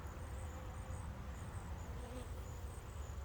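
Honeybees fly around a small urban beehive on an autumn day, a soft, continuous buzzing hum with individual bees droning close by, no talking.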